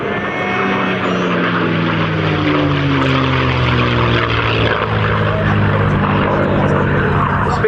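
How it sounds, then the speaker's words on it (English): Spitfire propeller fighter flying past at an airshow, its engine giving a loud, steady drone with slowly shifting pitch that fills the whole stretch, with a voice talking over it. "Spitfire, rightly recognised as one of the finest dogfighters of all time, that had very short legs"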